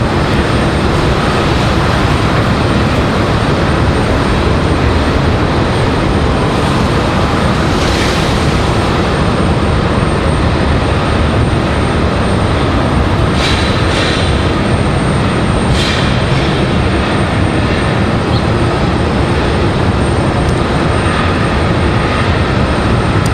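A small airplane on final approach at Raleigh-Durham International on a stormy day, heard as a steady, loud broadband roar that holds for the whole stretch, with a few brief higher swishes rising and fading along the way.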